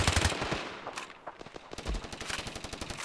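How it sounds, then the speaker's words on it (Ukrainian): Rapid bursts of automatic gunfire in the Standoff shooter game, fired at doors during indoor combat, with loud repeated shots and short pauses between volleys. "По цим дверям трішечки стріляємо."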